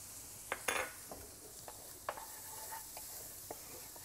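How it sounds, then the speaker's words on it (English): Garlic goes into a pan of softened, caramelised onions and sizzles quietly, with a few sharp clinks and scrapes of a utensil against the pan standing out over the faint, steady frying hiss. "Straight in with your garlic."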